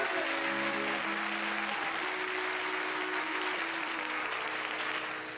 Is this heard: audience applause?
yes